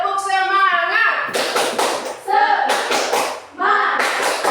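A class of Indonesian students performs a rhythmic cheer clap, bursts of quick unison claps alternating with loud chanted voices, repeating in a steady pattern close by.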